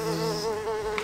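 A mosquito whines close by with a steady, continuous buzz that holds throughout the brief moment.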